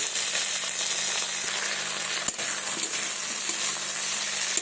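Potato and tomato frying in a pan, a continuous close sizzle broken by a few sharp clinks and scrapes of a spatula stirring the pieces.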